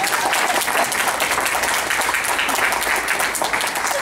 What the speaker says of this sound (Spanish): pido fuerte aplauso para él